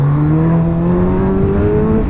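A Suzuki Hayabusa superbike engine accelerating, a loud, close, continuous roar with its pitch rising smoothly.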